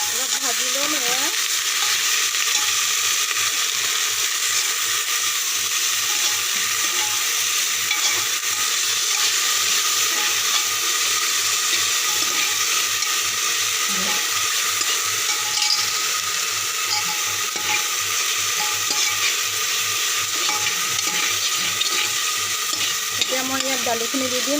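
Tengamora (roselle) leaves with onions fry in a pan, giving a steady, close hiss that runs unbroken, with a faint rhythmic scraping under it.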